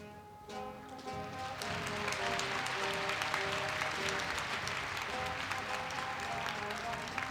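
Audience applause fills a hall at a Korea University 2016 entrance ceremony during a scholarship presentation, a steady broad wash of clapping lasting several seconds with faint music held underneath.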